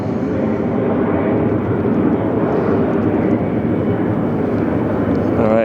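A Delta Air Lines jet departing Detroit Metro airport, its engines a loud sustained roar heard from outside that stays powerful and even for the whole stretch, with no voice on top.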